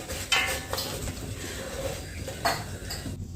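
A large metal cooking pot clanks down with a couple of brief metallic knocks over a quiet, low kitchen background hum.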